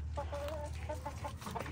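Chickens cluck in a quick series of short, nasal calls at close range, several clucks in under two seconds against a low background hum.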